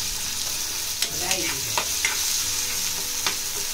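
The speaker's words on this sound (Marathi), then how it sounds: "सगळं असं मस्तपैकी फ्राय करून घ्यायचं आहे" Onions for poha tempering fry in a pan with a bright continuous sizzle, punctuated by several quick spatula scrapes and taps nearby.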